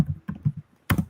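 Keys on a computer keyboard being tapped to type a search, a few quick bursts of clicking with short pauses between them, close and clear with no talking.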